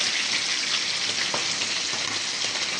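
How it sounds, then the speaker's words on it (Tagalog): Shrimp heads and shells frying in oil, a dense, bright, continuous sizzle heard up close at steady loudness with faint crackles, no speech. "prituhin lang natin tong ulo at balat para ito yung gagamitin nating mantika sa paggisa ng bawang mamaya"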